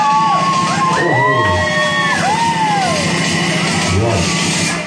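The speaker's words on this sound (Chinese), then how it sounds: "要有尖叫哦！" Crowd at a car dealership opening celebration screaming and cheering, loud overlapping whoops and shrieks rising and falling, with an amplified voice over a steady music hum.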